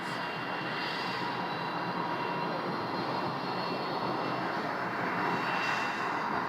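An airplane landing at Scottsdale airport, heard as a steady, broad engine roar that holds loud and even throughout and swells slightly near the end, with no voices over it.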